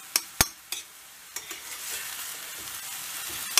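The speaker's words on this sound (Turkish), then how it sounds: "Topaklanan kıymaları da kaşığımızla ufak ufak parçalara bölüyoruz" Steady frying sizzle of minced meat with several sharp scraping clicks of a spoon breaking it up in a pan, close by, with no voices.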